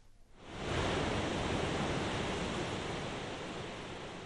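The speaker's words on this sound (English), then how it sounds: "The soundtrack of breakers hitting the sand at Ocean View Beach is a big attraction for residents." Ocean breakers wash onto the sand at Ocean View Beach in Dunedin, a broad, steady roar of surf that swells up after the first half-second and holds loud and continuous with no voices.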